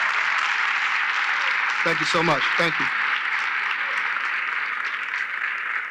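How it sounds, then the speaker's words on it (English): Audience applause at a Cleveland Ward 7 ward meeting, a steady dense wash of clapping held throughout, with someone briefly speaking thanks over it. "Please give them another round of applause."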